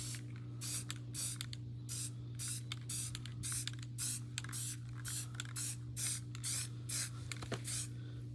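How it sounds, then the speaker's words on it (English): Quick, light bursts of spray paint hiss one after another onto the black parts of an MK12 rifle, a dozen or more short puffs close by, with a steady low hum underneath. "just real light spray"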